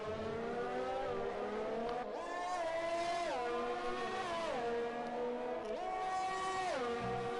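Race car engines in a sim racing game on the Azerbaijan Grand Prix circuit, loud high-revving whine rising through the gears with several sharp drops at upshifts, continuous and close.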